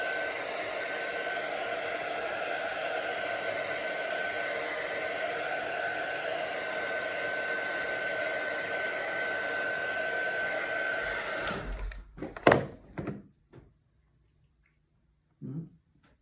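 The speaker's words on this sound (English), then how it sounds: "I'm going to do one more quick dry" A hair dryer blows steadily and fairly loudly to dry an art journal page, a constant broadband whoosh for about eleven seconds that cuts off abruptly, followed by a few soft handling clunks and a brief faint sound near the end.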